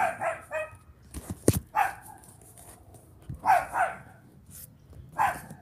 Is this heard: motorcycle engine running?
no